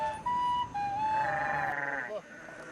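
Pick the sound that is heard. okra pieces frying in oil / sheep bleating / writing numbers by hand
sheep bleating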